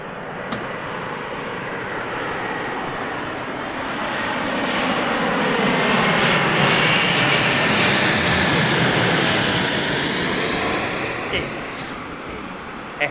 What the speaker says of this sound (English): Is this the A220, Swiss 220?